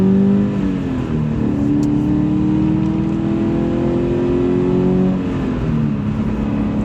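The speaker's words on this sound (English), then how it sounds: "Let's just get into the gas a little bit." A 2017 Subaru BRZ manual sports car engine revs and accelerates, a loud, steady climbing drone with rising pitch that dips briefly and climbs again, heard up close and alone.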